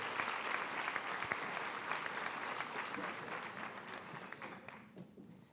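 A crowd of students and staff applauds steadily at a high school senior assembly, dense clapping sustained throughout at a moderate distance, tapering slightly near the end.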